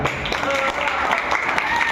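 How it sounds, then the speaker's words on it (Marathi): A gathered crowd claps for a boy's birthday, a dense burst of applause with a voice speaking over it. "जोरदार टाळ्या द्या"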